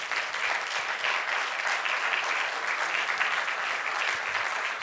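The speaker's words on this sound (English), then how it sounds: "how about a round of applause for our excellent panelists?" An audience at a nuclear energy panel event claps for the panelists, a dense, steady round of applause that fills the whole stretch without letting up.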